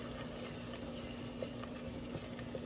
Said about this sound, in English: Now I have some no added salt chicken stock. And I'm going to add that slowly